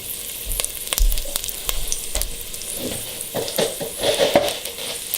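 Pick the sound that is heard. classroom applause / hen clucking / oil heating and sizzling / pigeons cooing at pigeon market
oil heating and sizzling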